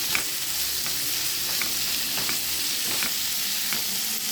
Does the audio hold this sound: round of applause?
no